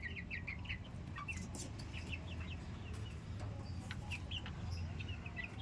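KUB chickens cluck and chirp in short repeated bursts, with several birds at moderate distance over a low steady background rumble and no talk.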